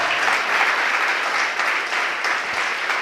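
Steady applause from a church congregation, loud and continuous, a room full of people clapping without pause.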